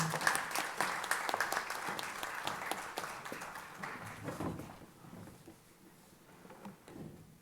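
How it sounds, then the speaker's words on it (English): Audience applause at a high school FFA awards ceremony, a dense burst of clapping that is loud for the first few seconds and then thins and fades away toward the end. "Please give them a round of applause."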